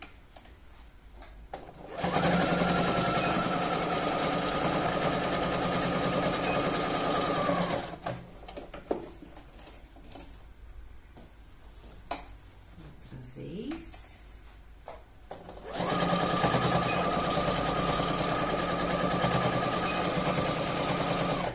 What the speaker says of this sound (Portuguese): Vou fazer a costura de segurança.